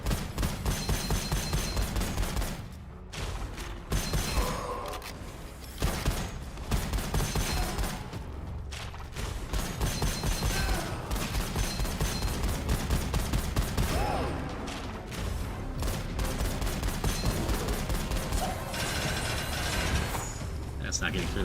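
Dense gunfire from the shooter game Gunfire Reborn, with rapid bursts and mechanical clatter that run almost continuously and pause briefly a few times.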